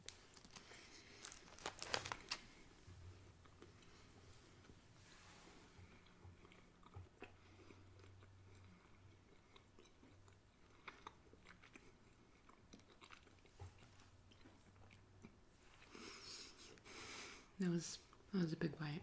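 Close, quiet crunching bites and chewing of a Munch Pak snack, with crinkling packaging and occasional soft mouth sounds, in an intimate ASMR-style setting.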